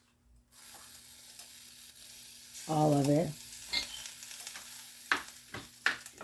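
Ground turkey sizzles and fries in a pot for soup, a soft continuous crackle under a brief spoken phrase, with a few sharp clicks from a utensil near the end.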